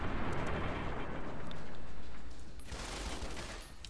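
Dense gunfire from the Fallout: Tale of Two Wastelands mod, sustained rapid bursts that blur into a continuous roar, loud and close, with no talking.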